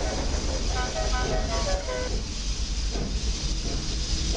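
A train pulls away on the Sodor Railway. A loud, steady rumble and hiss run throughout, with a short run of whistle toots in the first couple of seconds before the rolling noise carries on alone.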